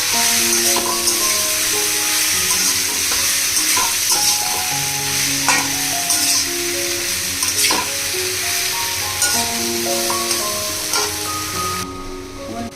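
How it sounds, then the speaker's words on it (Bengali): Onion, cumin and ginger-garlic paste sizzle steadily in hot oil as a spoon stirs with repeated scraping knocks, close and continuous without talk. "এই মশলাটা দেওয়ার পরে আমি আরেকবার ভালো করে কষে নেব"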